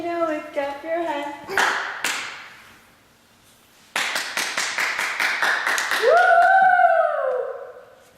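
A group claps hands in a steady, evenly spaced run of about eight sharp claps, keeping time with the children's song "If You're Happy and You Know It." Singing voices come before the claps and a cheer follows.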